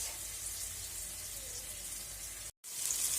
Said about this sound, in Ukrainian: най вони підсмажуються потрошечки. Вони підсмажуються.